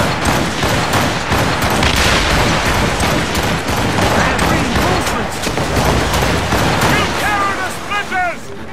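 Ship cannons firing during a naval battle in Assassin's Creed Rogue, a loud, continuous volley of booming blasts and crackling gunfire, with shouting voices and brief whistling tones near the end.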